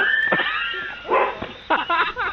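Dog barks loudly several times in short bursts close by, frightening a horse, with faint voices in the background.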